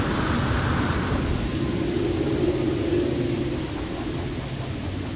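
Steady rain falling outside with a low rumble of thunder, a continuous dense wash of noise at moderate level, no voices.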